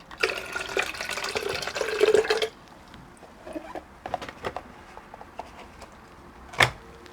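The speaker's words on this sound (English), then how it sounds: "I think we should pour some of that out." Water is poured out of a plant container for a couple of seconds with a close, splashing patter, followed by quiet handling noises and a single knock.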